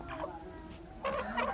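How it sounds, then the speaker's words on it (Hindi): An Aseel rooster, closed-comb and long-tailed, tired after a fight, gives a few short, soft clucks in two brief bursts. The sound is quiet and close, with no talk over it. "उसके बाद बंद जोड़ का मुर्गा है ये, बिल्कुल बंद जोड़ का।"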